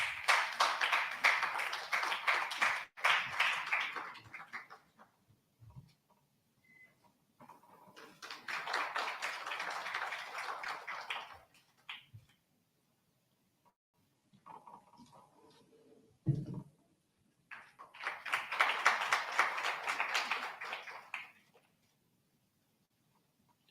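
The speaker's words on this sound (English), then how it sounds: "Can we have an applause, please?" An audience at an AI summit in Bengaluru bursts into applause three times, each burst of dense clapping lasting several seconds and separated by quiet pauses with faint stray sounds.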